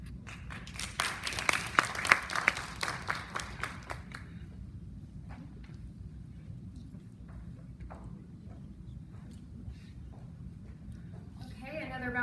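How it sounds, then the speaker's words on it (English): A short burst of audience clapping at a talk on African American financial institutions and economic justice, loud for about four seconds before thinning into scattered claps and quiet room noise. "another round of applause for Mrs. Tim"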